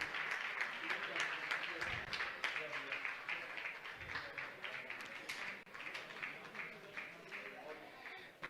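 An audience at a religious discourse gathering claps to welcome honoured guests, producing a faint, continuous patter of applause heard under a speaker's voice.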